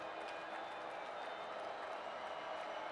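A stadium crowd at a Vanderbilt versus Florida college football game sends up a continuous, distant wash of cheering and murmur, steady and unbroken throughout.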